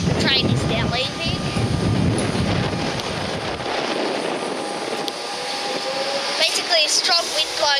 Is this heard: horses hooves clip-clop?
no